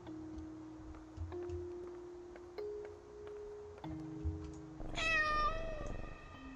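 Cat meowing in the horror video game Layers of Fear: a single clear, close meow rises out of a quiet ambient drone with low tonal hums, about two-thirds of the way through.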